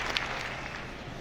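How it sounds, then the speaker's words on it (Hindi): Brief burst of audience applause filling a hall, Babu Sabhagar in Patna, Bihar, heard as a dense, steady wash of clapping at moderate level. "सभी लोग जोरदार ताली बजा दें दोस्तों"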